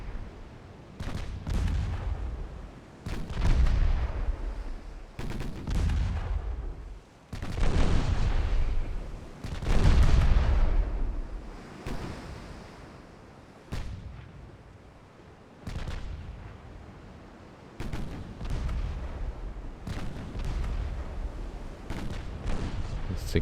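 Six-inch naval guns firing in a naval warfare game, a run of heavy booming salvos repeating every couple of seconds with deep rolling echoes.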